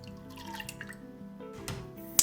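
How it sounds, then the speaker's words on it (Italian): Milk pours into a small saucepan in a light, trickling, dripping stream, close and quiet, with a small clink near the end. "Verso in un pentolino il latte"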